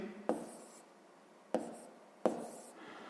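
Pen or chalk writing out a maths inequality, three quick sharp scratching strokes separated by short pauses, close and quiet.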